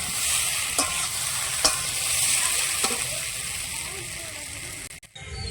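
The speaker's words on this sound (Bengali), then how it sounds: "আলু ভাজা হচ্ছে।" Potatoes frying in a pan during an evening puja-day cooking session make a loud, hissing sizzle with a few stirring clinks, while a voice is briefly present.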